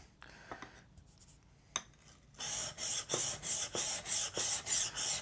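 A vanadium steel blade is drawn across a sharpening stone. After a few scattered scrapes and taps, a quick run of rhythmic rasping strokes follows, about ten evenly spaced passes, close and crisp.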